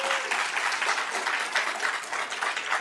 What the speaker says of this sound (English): So a round of applause for you guys again.